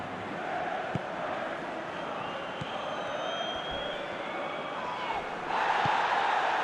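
Football crowd in a stadium applauding and murmuring, a steady broad roar of clapping and voices that swells louder near the end.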